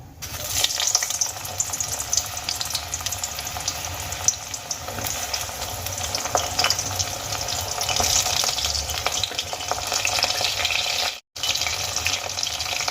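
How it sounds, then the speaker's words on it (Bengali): Eggplant pieces frying in hot oil, a steady loud crackling sizzle running throughout with a brief break near the end. "সেই বেগুনের টুকরোগুলো এবার তেলের মধ্যে ছেড়ে দেবো"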